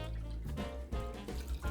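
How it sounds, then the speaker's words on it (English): Prepared non-alcoholic eggnog is poured through a strainer into a bowl, making a steady liquid stream with gurgling splashes that continues throughout at low level. "I'm simply just going to pour my prepared eggnog through the strainer."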